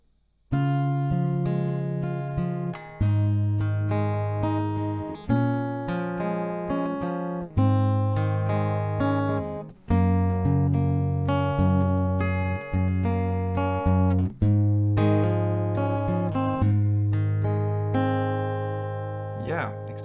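Acoustic guitar picked in a steady repeating pattern for a song, chords changing every couple of seconds, clear and close with no voices.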